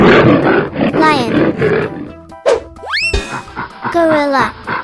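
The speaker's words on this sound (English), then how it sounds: "Lion." A lion roar rumbles out in a cartoon-style animal sound sequence, loud and close, followed by a rising springy boing and another rough growling call, with no speech over it.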